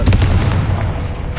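A Confringo spell goes off in Hogwarts Legacy as a loud, booming blast with a heavy low rumble that fills the moment and fades slightly toward the end.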